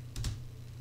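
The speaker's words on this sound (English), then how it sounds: "we're going to go ahead and type in" Quick computer keyboard keystrokes while a command is entered, two or three soft close clicks in rapid succession and then quiet.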